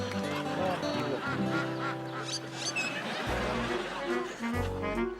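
A goose honks repeatedly among other barnyard fowl, loud and harsh, the honks overlapping in a busy, noisy mix of calls.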